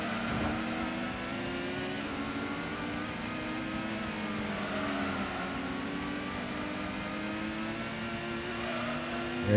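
Gran Turismo arcade racing on the Deep Forest track, a Mazda RX-7 among race car engines droning and revving continuously close up, with pitch sweeping up and down through gear changes and no talking.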